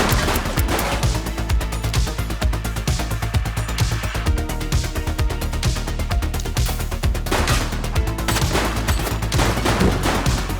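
Rapid gunfire in The Precinct, a police action game, sharp shots cracking in quick, dense bursts over a busy background, loud and close for the whole stretch.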